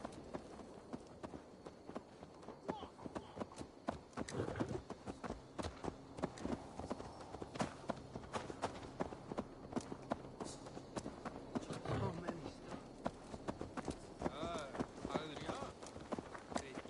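Horse hooves clip-clop in a steady, brisk rhythm in Assassin's Creed Valhalla, mixed with game ambience while voices talk over them.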